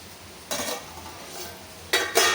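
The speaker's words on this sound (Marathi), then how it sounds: "शिजताना दोन वेळा हलवायचं आहे" A spoon scrapes and stirs soybean pulao cooking in a pot, two or three short, close scraping strokes over a quiet background hiss.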